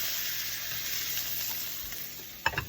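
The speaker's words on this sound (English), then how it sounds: "you just want to sear it, See that? Sear it up" Stew beef sears in a pan with a loud, continuous sizzle close up, ending with a few sharp scraping clatters as the meat is moved.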